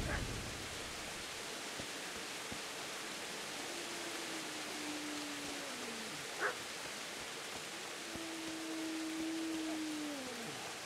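Faint dog barks in a video game drift in from far off under a steady hiss of background noise, a few scattered calls with long gaps between them.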